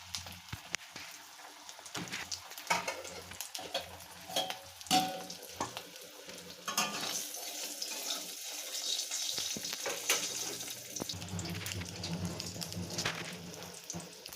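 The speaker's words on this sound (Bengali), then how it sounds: "তারপরে কড়াই দিয়ে বা তেলটা আগে দিয়ে কড়াই ডিম দিয়ে হলুদ দিয়ে নাড়তে থাকবেন।" Boiled eggs frying with turmeric in oil in a wok, stirred as they cook, giving a steady crackling sizzle with scraping and clattering bursts, loudest toward the end.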